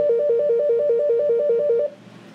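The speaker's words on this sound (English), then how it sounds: "and we're dialing 210" A Cisco desk phone gives off a rapid warbling electronic tone of quick alternating beeps, loud and close, lasting about two seconds before cutting off to a quiet hum.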